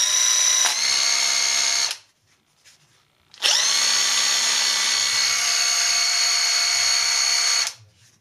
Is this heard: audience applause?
no